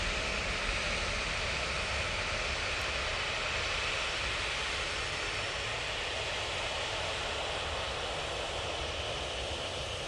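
Etihad airliner at Manchester Airport, a loud, steady broadband engine roar that holds evenly throughout with no talking.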